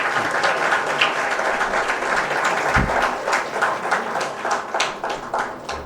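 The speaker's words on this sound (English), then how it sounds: "A big round of applause, please." An audience applauds to welcome India's Finance Minister Nirmala Sitharaman at a keynote event, sustained loud clapping throughout, with individual claps standing out toward the end.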